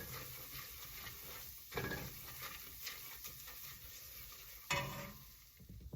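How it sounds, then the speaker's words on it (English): Flour being stirred into a roux in a pot, a steady low sizzle with scraping stir strokes and two sharper utensil knocks against the pot, close by, with no talk. "And now we're gonna add some flour, but I'm gonna sprinkle that over top. And stir it in."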